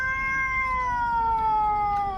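Several cats meowing and wailing loudly in a home, long drawn-out insistent cries overlapping one another, close to the listener with no talk.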